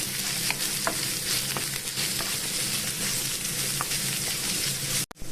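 Onions sautéing in a pan for a goat blood stir-fry: a steady, close sizzle with occasional stirring clicks, no voices, ending in a brief clatter.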